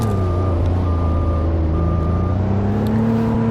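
A truck's reversing beeper sounds in three steady, evenly spaced tones over a low idling engine rumble while the truck backs up, with no talking.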